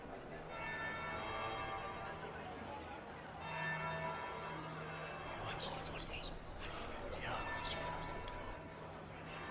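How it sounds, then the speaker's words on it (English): A church bell rings in the fantasy game Dragon Age: Inquisition, its sustained, humming tone steady for the whole stretch while characters talk over it. "That would be the second bell."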